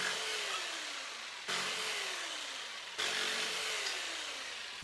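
Power saw making straight cuts through old door wood, three repeated passes each starting with a loud burst and slowly easing off as the blade works through, close and steady with no talk.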